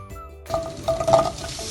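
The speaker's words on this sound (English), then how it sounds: "Apples go into a pan along with the sugar, brown sugar." Apples and brown sugar tumble into a pan on the stove, giving a short burst of clinks and a soft sizzle after a quiet start.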